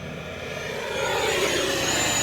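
Giant RC model jet flying by, its broad whooshing turbine roar swelling steadily as it approaches over a couple of seconds, with no voices.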